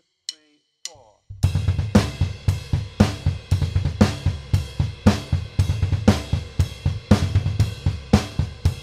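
A double bass drum exercise of single strokes in four groups of four: after a brief count-in, steady, evenly spaced kick beats with cymbal accents on each group play loud and close.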